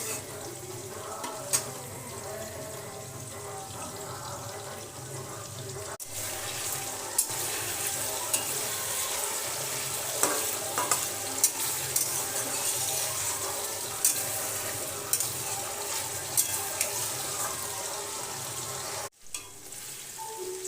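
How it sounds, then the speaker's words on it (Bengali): Chicken pieces fry in hot oil over medium heat, giving a steady close sizzle with occasional crackles and spatters for the whole stretch, briefly cut near the end. "চিকেন ভাজা হয়ে গেছে"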